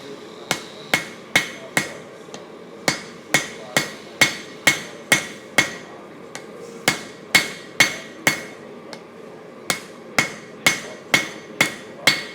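Hammer striking mild steel on an anvil while forging a spear head, a long run of sharp ringing blows in a steady rhythm with a few short pauses, close and loud with no talk.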